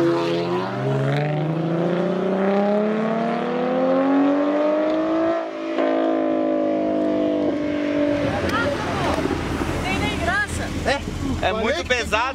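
Cars in a Mustang versus Audi TT street race, one engine revving hard with a long climbing pitch before a shift, then rougher throttle bursts and mechanical noise as people talk nearby.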